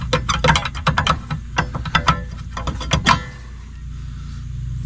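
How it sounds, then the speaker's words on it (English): Metallic clanks, clicks and rattles of a brake rotor being worked off the hub of a 1997 Toyota Century V12, a busy cluster of close knocks over the first three seconds, then quieter. "I'm going to remove the rotor."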